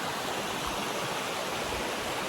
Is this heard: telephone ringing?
no